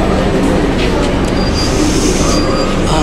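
Metro train at Rabindra Sarobar station in Kolkata, a loud, steady rumble of carriage and rail noise with a faint high whine, continuous throughout, with some background voices.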